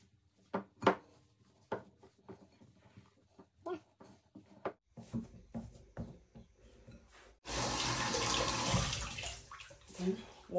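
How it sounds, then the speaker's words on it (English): Kitchen tap running water for hand washing, first faint intermittent splashes and clatter, then a loud steady gush of water near the end, with a dog whimpering faintly in the background. "Wash my hands"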